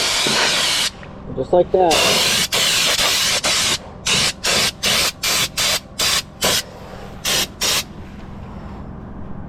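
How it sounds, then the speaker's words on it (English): A spray gun applies Fluid Film rust protection under a truck, a loud close hiss in one long burst and then a run of short regular bursts, with brief speech between sprays. "I'll get under there and start spraying."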